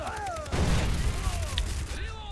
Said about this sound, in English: Those are the instant explosives.